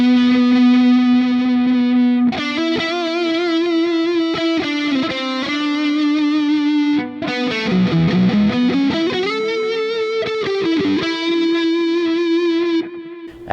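Electric guitar sustained lead through an ML Sound Lab Amped ML5 amp sim with the neck pickup and a noise gate on, loud distorted held notes with bends and vibrato, played alone.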